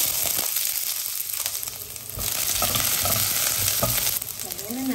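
Garlic frying in hot oil gives a loud steady sizzle and crackle, close up, with occasional stirring scrapes in the pan.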